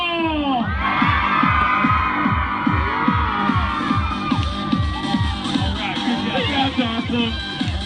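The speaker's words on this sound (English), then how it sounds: "let me hear you cheer for the Super Bowl!" A crowd of children cheers, whoops and shouts loudly and continuously at a prize game stand, with rhythmic thumping underneath and excited voices overlapping throughout.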